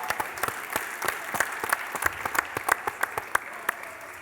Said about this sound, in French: Bonne main d'applaudissement.